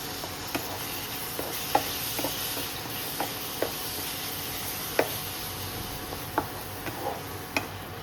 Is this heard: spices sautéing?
yes